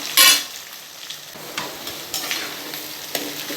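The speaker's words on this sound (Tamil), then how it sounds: "இது கூட வந்து வெங்காயம் போட்டுக்கணும். இதெல்லாம் இப்போ நல்லா நம்ம ஆயிலே நல்லா வதக்கணும்." Onions sautéing in oil for chicken gongura: a loud spatula toss at the start gives way to a steady close sizzle with light scraping strokes every half second or so, no voices.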